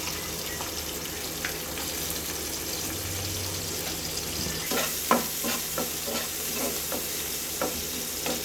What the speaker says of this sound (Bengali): পেঁয়াজ রসুন ভালো করে ভেজে নেব